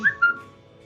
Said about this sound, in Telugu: చూడండి, విజిల్స్ వచ్చేసాయండి, మనకి మంచిగా పప్పు ఉడికిపోయింది.